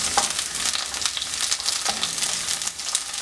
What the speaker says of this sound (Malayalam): ഇതിലേക്ക് വെണ്ടക്ക ഇട്ട് കൊടുത്തൊന്ന് വഴറ്റിയെടുക്കാം.